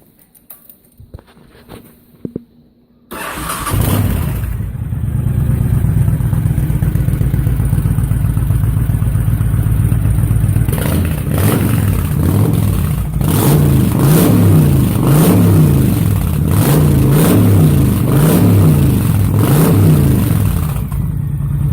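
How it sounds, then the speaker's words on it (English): A 2005 Honda VTX 1300R motorcycle with a Cobra slip-on exhaust, carb and breather still stock, starts after a few faint knocks, then idles loud and close with a steady lumpy rumble and several rhythmic revs near the end. "let me fire up and give a listen"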